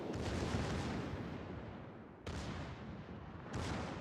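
Torpedo launches in a naval video game come as three broad, whooshing bursts of firing, each a loud rushing wash that decays before the next, with no talking.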